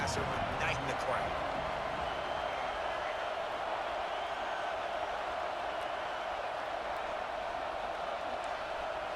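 A roaring stadium crowd in the College Football 26 video game makes a dense, steady wash of noise, with a commentator talking over it.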